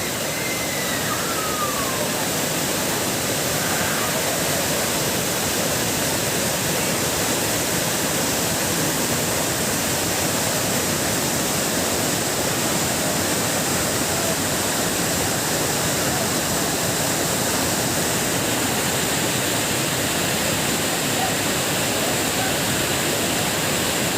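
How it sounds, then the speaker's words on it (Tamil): Flood water of the Kaveri river rushes over its banks in a steady, loud, broadband roar that stays constant throughout, with no voices or breaks. "நீர்வரத்து அதிகரித்து காவிரி ஆற்றில் வெள்ளம் கரை புரண்டு ஓடுகிறது"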